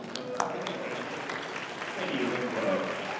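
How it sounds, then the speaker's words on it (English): Applause at an academic awards ceremony, an even patter of many hands with a few sharper claps near the start, swelling slightly toward the end, with voices mixed in. "You can clap."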